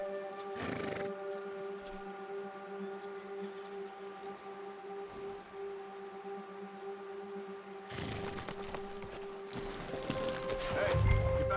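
A horse in Red Dead Redemption 2 clip-clops and whinnies in loud bursts at the start and again near the end, with steady tonal game music running beneath throughout.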